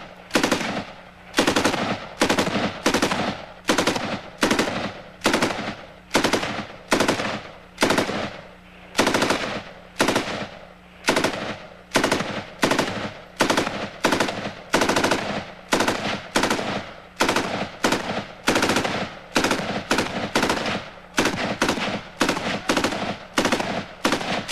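A machine gun chambered for 5.56 mm NATO fires burst after burst in a steady, rapid rhythm, loud and close, with short gaps between strings of shots for the whole stretch.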